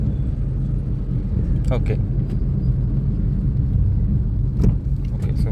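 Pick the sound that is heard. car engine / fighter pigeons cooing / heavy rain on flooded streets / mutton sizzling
car engine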